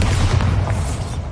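A Bombarda blasting spell erupts in Hogwarts Legacy, a brief, loud, booming burst with a deep rumbling body and no voice over it.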